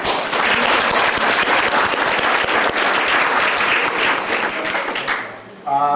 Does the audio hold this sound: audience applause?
yes